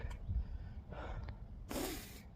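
Sniffling and sharp nasal snorts from a person suffering hay fever outdoors, a few quick breathy bursts, close and fairly faint, with no talking.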